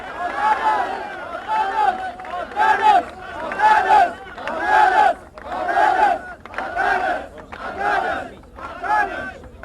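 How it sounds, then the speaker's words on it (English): Rally crowd at a Kosova rally chanting a name in loud rhythmic bursts, around nine repeated shouted calls in steady cadence, close and energetic. "Let's give a real round of applause to Anthony Athanas"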